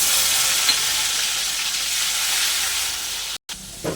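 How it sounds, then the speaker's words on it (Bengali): Chopped tomato drops into hot oil already tempered with spring onion greens, dried chilli, cinnamon, clove and cardamom for a stuffed pointed-gourd dolma, giving a loud, steady close sizzle that dips briefly near the end, with no talk. "এবারে দিয়ে দেবো টমেটো কুচি।"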